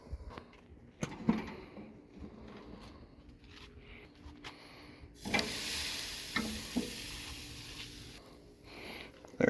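Leftover food goes onto a hot BBQ grill: a few clanks, then a loud, steady sizzle and hiss that holds close up for several seconds before easing.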